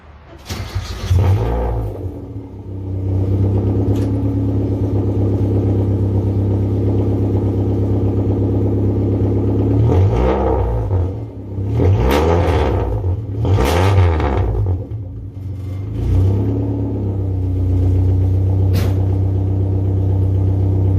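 A car fitted with tall bosozoku takeyari blast pipe exhausts cranks and fires up, settling into a loud, deep rumbling idle, then rises through several sharp revs before dropping back to idle, close and alone.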